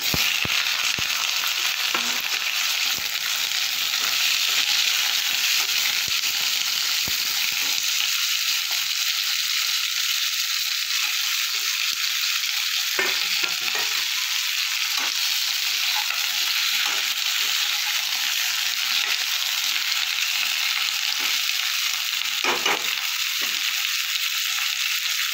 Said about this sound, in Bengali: কড়াইতে আমি তেলটা গরম করতে বসিয়ে দিয়েছি। এবার শিমগুলো আমি একটু হালকা করে ভেজে